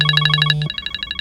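iPhone ringtone previewed from the settings menu, a bright repeating electronic chime pattern with pulsing tones, loud and close, with a low steady tone dropping out partway through.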